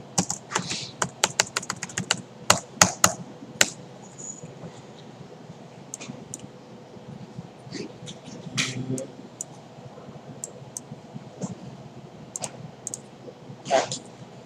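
Typing on a computer keyboard during a database lesson, doing copy and paste: bursts of quick, close clicking keystrokes, dense at first and then scattered, with a little speech in the background.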